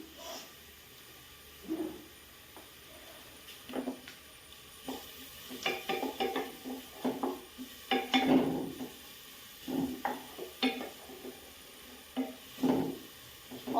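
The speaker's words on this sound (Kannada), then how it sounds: "ಆನಿಯನ್ ಫ್ರೈ ಆಗ್ತಾ ಬಂತು." Onions frying in a pan on a home stove while cooking Maggi noodles, a soft steady sizzle broken by scattered scraping and stirring clatters of a utensil against the pan, quiet and with no talk.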